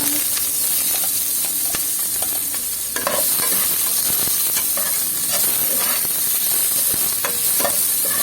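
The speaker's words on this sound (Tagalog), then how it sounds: "Igisa na po natin ang ating bawang at sibuyas." Garlic and onion sauté in hot oil for dinuguan, a steady close sizzle and frying hiss broken by scraping stirs of a utensil against the pan, growing slightly more intense partway through, with no talk.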